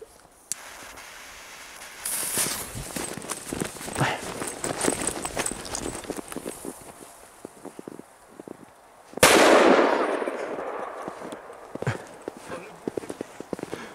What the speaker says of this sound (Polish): No, te petardy są mega dobre.